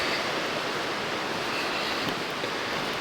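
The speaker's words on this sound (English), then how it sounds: "I just wanted to make sure we got to the waterfall." A waterfall in Margaret Falls canyon near Tappen, British Columbia, heard as a steady, loud, broadband rushing roar of falling water, continuous and unbroken throughout.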